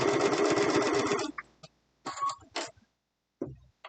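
Sewing machine stitching down fabric appliqué on a mug rug: a loud, steady run of rapid needle strokes for about a second, then stops and brief clicks and short bursts of stitching.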